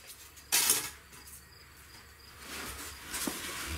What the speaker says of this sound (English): Take these styrofoam pieces off so I can